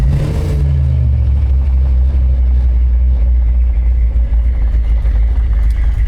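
An old Mopar car engine rumbles steadily and loudly at close range after a brief, harsh burst at the start, with a deep low drone throughout and no talking.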